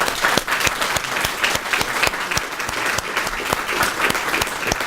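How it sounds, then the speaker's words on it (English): Audience applause closing a breakout session after speakers finish, steady dense clapping at close range with sharp individual claps standing out, continuous for the whole stretch. "round of applause for our speakers today"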